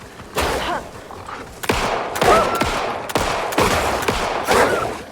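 Video game gunfire from Alan Wake 2: several loud, sharp shots, some fired in quick bursts, echoing over a dark ambient backdrop with no talking.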